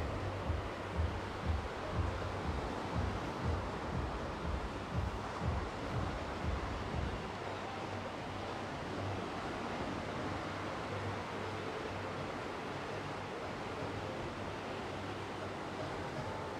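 Sea waves wash close up against the beach promenade at Side in the evening, a steady broadband surf rush with low wind rumble, continuous and fairly loud throughout with no voices.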